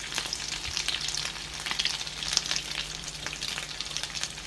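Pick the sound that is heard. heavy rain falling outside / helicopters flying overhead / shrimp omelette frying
shrimp omelette frying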